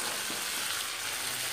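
Potatoes frying in hot spiced oil, a steady close sizzling hiss that stays even throughout the short moment, with no talking.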